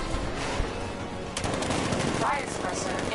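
Rapid cannon fire from the Batmobile in the video game Batman Arkham Knight, a dense, continuous burst of loud shots with crashing impacts.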